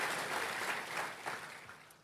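Applause from a church congregation for the worship leader, singers, dancers and musicians at a Sunday service, a steady wash of clapping that stays fairly even and moderately loud throughout.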